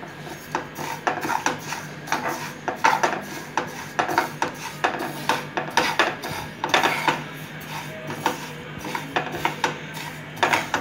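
Ajwain seeds dry-roasting with black cumin in a pan over a low flame: repeated metallic scrapes and clinks of a spatula against the pan, close and rhythmic, with no speech.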